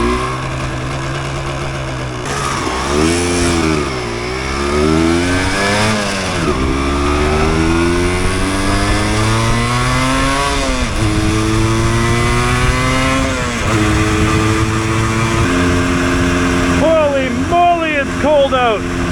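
A 1988 Yamaha DT200 two-stroke enduro motorcycle rides along a highway in cold winter weather, its engine whine climbing and dropping repeatedly through gear changes, loud and close over steady wind roar.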